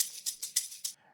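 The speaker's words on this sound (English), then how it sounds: "That's when I added a shaker loop like this one." A shaker loop from an Amapiano pop beat in FL Studio plays alone, a quiet run of bright, hissy rattles pulsing in a steady fast rhythm with regular accents before it cuts off.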